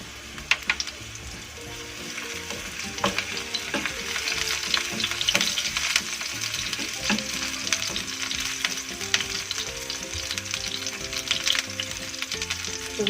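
Sliced shallots fry in hot oil for stuffed tofu, giving a loud, steady crackling sizzle that runs the whole time with occasional stirring scrapes and faint background music.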